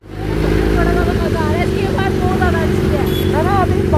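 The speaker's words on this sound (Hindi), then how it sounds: "और बाइक की आवाज़ सच में यार बहुत अच्छी है" A Royal Enfield motorcycle with an aftermarket Arrow exhaust rumbles steadily with a deep, throaty exhaust note, while someone talks over it throughout.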